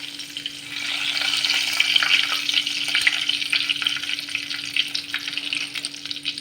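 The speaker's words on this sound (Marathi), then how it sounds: "आता ह्या तेलात थोडीशी मोहरी टाकली, थोडंसं जिरं आणि त्यानंतर त्यात थोडंसं टाकणार तेजपान" Mustard seeds, cumin and bay leaf hit hot oil and burst into a loud, dense, crackling sizzle that swells and holds steadily right up close, with no voices over it.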